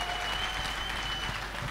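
A crowd at a show applauds in a steady, dense wash of clapping with a faint tone running through it, and no talk over the top.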